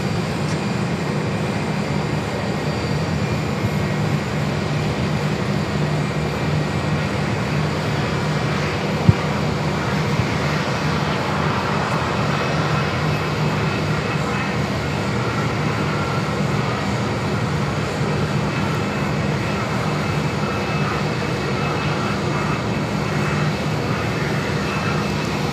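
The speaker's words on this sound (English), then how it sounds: "A321 heading into gates Alpha 23." An Airbus A321 taxis toward its gate at Phoenix, a continuous dense engine rumble and hiss holding at a steady level throughout, with one brief sharp tick partway through.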